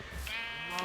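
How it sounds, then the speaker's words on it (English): A single sheep bleat from the video game Zrealm, a short wavering nasal call heard close and alone at moderate volume. "Let's go get a sheep."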